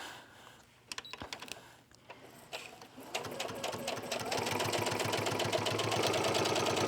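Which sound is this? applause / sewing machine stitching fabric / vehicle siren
sewing machine stitching fabric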